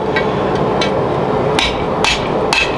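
Sharp metal hammer blows ring out while a steel spatula blank is shaped, about six strikes in under three seconds at an uneven pace, close and loud over a steady workshop hum.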